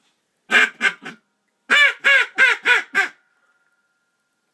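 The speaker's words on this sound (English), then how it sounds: "that was a real duck. Did you guys hear that real duck?" Loud, close mallard-style duck quacks in two bursts, a quick run of three and then a rhythmic series of five, each raspy and descending, against near silence.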